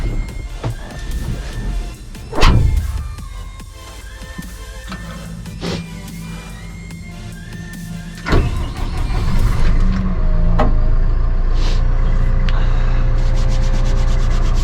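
Orvex LT 100 Hydrostat forestry tractor running nearby, a steady low engine drone with scraping and clunking bursts, rising to a louder sustained rumble as it drives off.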